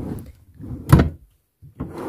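A transparent plastic bedroom drawer slides open or shut with a short scraping rumble and a sharp knock, close by, followed by a softer second slide.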